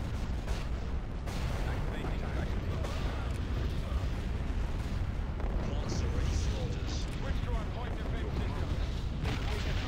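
Starship guns firing in a space battle in Empire at War, Awakening of the Rebellion mod: a continuous, loud barrage of cannon fire and booming impacts blending into a dense, roaring wall of sound for ten seconds.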